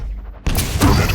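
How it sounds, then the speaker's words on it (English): A rocket explosion in a Quake duel, a sudden loud boom that cuts in after a quiet moment and rumbles on with a second blast close behind. "good rockets from Prodigy throw Prune away"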